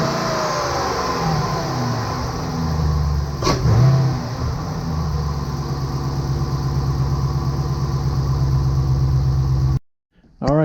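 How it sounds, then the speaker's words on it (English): Dodge Durango R/T with a newly installed intake, its engine idling and revving steadily, with one sharp rev burst early and a loud, sustained drone before cutting off near the end. "I don't want to wake him up with the exhaust and revving it and stuff."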